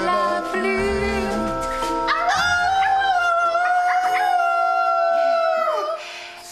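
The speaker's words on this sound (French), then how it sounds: "Des loups dans notre village" Wolves howl near a village by the forest at night, several long wavering wails that overlap, rise and slide in pitch, loud and close, then trail off at the end.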